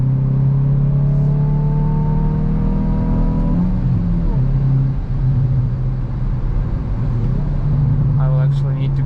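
Hyundai i20 N 2022 with a 204 hp engine, six-speed manual and loud exhaust, heard from inside as a steady engine note rises in pitch, drops at a gear change and climbs again, with road roar continuous underneath.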